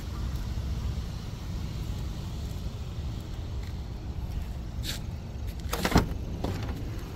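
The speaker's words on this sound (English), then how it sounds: "It's got the power liftgate" A 2018 Audi Q3's power liftgate runs with a steady low motor hum, then gives a few sharp clicks and a soft thud near the end as it latches.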